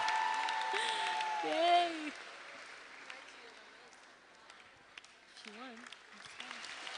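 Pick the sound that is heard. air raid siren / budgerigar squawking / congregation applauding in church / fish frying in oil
congregation applauding in church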